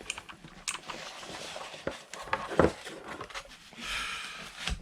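A Redragon Viznu mechanical keyboard is lifted out of its packaging, with quiet scattered rustles, taps and clicks of plastic and cardboard, one sharper knock midway, all fairly faint and close.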